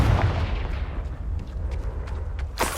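A Confringo fire-blast spell in Hogwarts Legacy lands as a deep booming burst, followed by rumbling and scattered crackling impacts, with a sharp final hit near the end.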